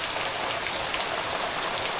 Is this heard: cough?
no